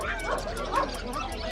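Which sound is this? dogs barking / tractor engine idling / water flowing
dogs barking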